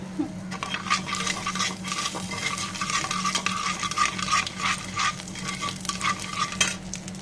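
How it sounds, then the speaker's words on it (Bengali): Nigella seeds frying in hot mustard oil for a pointed gourd bhorta, stirred with a metal utensil: a busy crackling sizzle dotted with quick scrapes and light clinks against the pan, close and without talk. "কালো জিরা দিয়ে আমি নেড়ে দিব"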